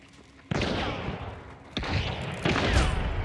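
Several sharp video game gunshot blasts, three bursts in quick succession, each followed by a sustained noisy rumble, loud and close.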